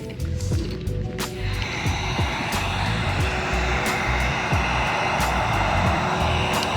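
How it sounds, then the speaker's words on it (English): Heat gun blowing steadily at close range while satin blue chrome vinyl is applied to a BMW M8 Competition, a continuous airy roar with a few clicks and handling noises. "now all we have to do literally is grab the heat gun"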